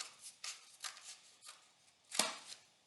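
Paper cylinder being cut open with scissors: several soft snipping and rustling strokes, then one sharper crisp cut near the end, quiet and close with no speech.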